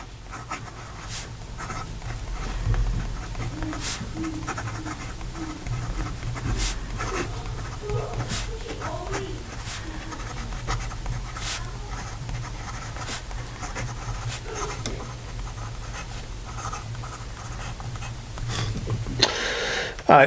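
A Carolina Pen Company Aiken fountain pen with a Jowo medium nib scratches softly across paper, the faint strokes broken by light taps and clicks in a quiet room.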